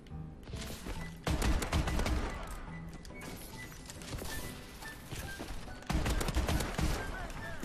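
Rapid bursts of automatic gunfire from Call of Duty: Advanced Warfare in an Infected match, loud and dense with repeated volleys, with a player's voice talking over parts of it.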